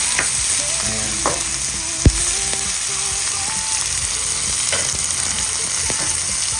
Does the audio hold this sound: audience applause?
no